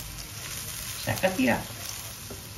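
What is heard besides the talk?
cod fish roe frying in a pan on low heat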